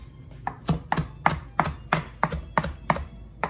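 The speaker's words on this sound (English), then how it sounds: "What I'm gonna do now is I'm gonna chop up all these leaves." A kitchen knife roughly chops fresh garden basil leaves on a board for creamy tomato basil soup, with about nine close, crisp strikes at a steady, even rhythm and no voices.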